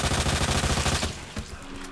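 Rapid automatic gunfire in Resident Evil 2 Remake rattles in a fast, loud stream of shots, then cuts off into a few scattered impacts and a lingering low rumble.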